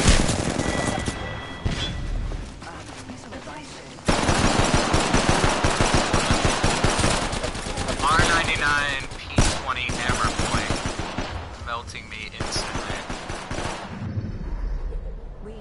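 Rapid video game gunfire, with sustained automatic bursts and scattered single shots, loud and close. Short pauses break up the firing and a few faint voices come through underneath.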